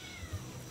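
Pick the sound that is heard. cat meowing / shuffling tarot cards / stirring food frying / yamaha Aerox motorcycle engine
cat meowing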